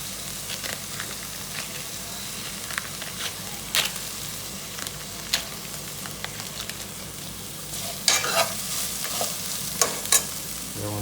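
Whole spices frying in hot oil with ginger-garlic paste for homemade chicken pulao, a continuous soft sizzle with scattered crackles and stirring scrapes, fairly close and steady.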